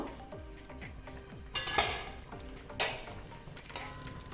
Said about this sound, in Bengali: ঢাকনাটা আমি তুলে নেব